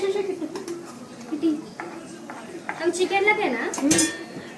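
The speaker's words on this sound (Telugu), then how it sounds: "అన్నం కలుపుతున్నా చూడండి" Rice is mixed with a spoon in a dish, giving repeated close clinks and scrapes of metal on the dish while a person talks over them.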